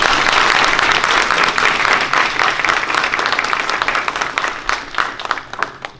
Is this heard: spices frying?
no